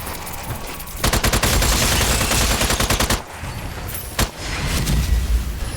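Gunfire from a ridiculous gun in the video game Strange Brigade comes as loud sustained bursts of rapid shots with a brief pause and a sharp crack between volleys.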